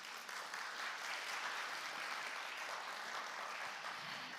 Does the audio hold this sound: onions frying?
no